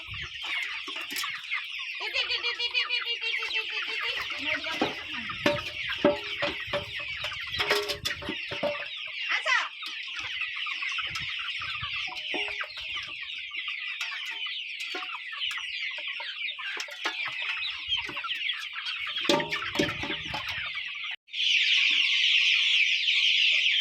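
Chickens on a turkey and poultry farm in Odisha cluck and crow steadily throughout, a dense, continuous flock chorus with sharper individual calls, ending in a louder, fuller stretch.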